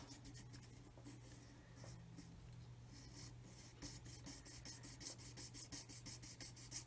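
A blade rasps through a plastic part from a HobbyBoss 1/35 Land Rover Defender scale model kit, faint repeated scratchy strokes that quicken into a steady back-and-forth rhythm toward the end.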